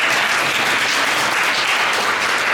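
An audience at a university architecture IT capstone presentation keeps up steady, dense clapping, even and loud throughout without pause.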